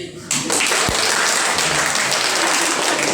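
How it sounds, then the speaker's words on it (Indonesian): Audience at a village head candidates' vision-and-mission event applauds the moderator, a steady wash of clapping that starts abruptly and holds loud to the end, with a low thump near the start. "Dan yang terakhir, aplaus untuk moderator."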